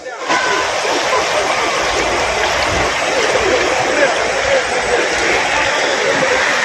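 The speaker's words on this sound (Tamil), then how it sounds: "தண்ணி எப்படி அலை கடலன்னா போயிட்டுருக்கு பாருங்க கடுமையாக" Strong, fast-flowing river water at Pamba near Sabarimala, a steady broad rushing roar that fills the whole stretch without break, close and loud, with no talk over it.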